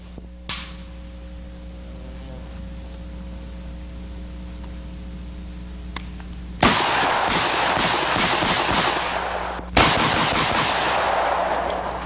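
On a shooting show, a steady hum gives way to two bursts of rapid gunfire, loud and close, with shots echoing densely for several seconds each, no talk.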